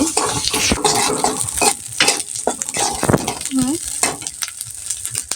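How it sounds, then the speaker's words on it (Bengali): Ginger garlic paste hits a frying pan while cooking an egg and liver dish, giving a loud close sizzle broken by repeated scraping stirs and utensil knocks against the pan. "এখানে হচ্ছে আমি আদা রসুন পেস্ট দিয়ে দিচ্ছি"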